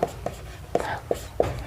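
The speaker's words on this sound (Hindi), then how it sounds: "यहां पे हम लिखेंगे" Chalk or marker writing on a classroom board, several short strokes in quick succession, close and fairly clear, with a teacher's voice faintly around them.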